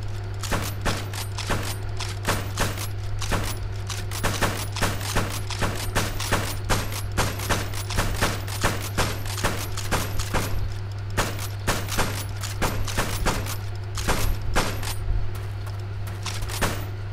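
Rapid crossbow shots fired over and over in vanilla Minecraft, a dense rattling stream of sharp clicks like machine-gun fire, steady and loud for the whole stretch with a constant low hum underneath.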